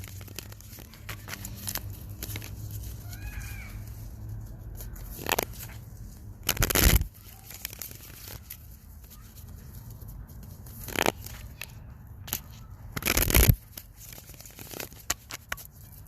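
Tarot cards are shuffled outdoors in nature, two distinct brisk riffling bursts a few seconds apart over a quiet background with faint scattered rustles.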